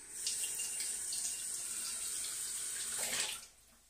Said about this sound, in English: There's weird stuff, so I'm just going to rinse this.